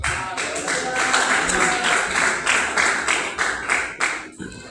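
A church congregation claps along in a steady, rhythmic beat, each sharp clap distinct, fairly loud and close, with voices faintly under the clapping before it breaks off near the end.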